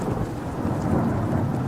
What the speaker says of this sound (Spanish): Sí, descargó todo el agua como bomba de lluvia.